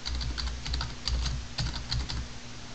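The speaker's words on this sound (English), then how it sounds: "I'm just going to type num nights." Rapid, close keystrokes clatter on a computer keyboard in an uneven burst of clicks over a faint steady hum, with no talking.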